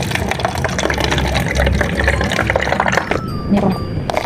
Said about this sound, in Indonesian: Pertama-tama kita tuang airnya menjadi ukuran sama penuh.